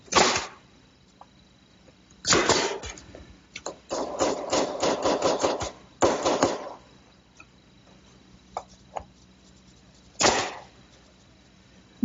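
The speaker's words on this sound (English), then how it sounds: "we just slip those in the dado and nail it with an 1¼ finish nail" A hammer drives a 1¼-inch finish nail into a shelf seated in a wooden dado, sharp close strikes spaced apart with a quick run of lighter taps in the middle and a few faint knocks between, no talk.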